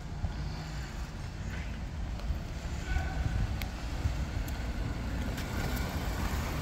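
Cars pulling out through an automatic gate, a low steady vehicle rumble with some wind noise, moderately close and continuous, no talking.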